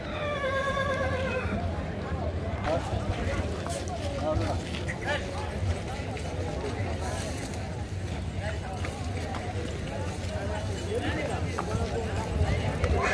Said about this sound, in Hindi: ये भी एक बहुत बेहतरीन स्टैलियन है